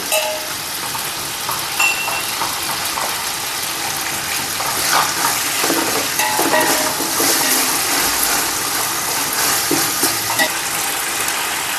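Onions and whole spices frying in oil for chicken biryani: a steady, loud, dense sizzle and crackle that runs throughout, with occasional stirring scrapes and no voices.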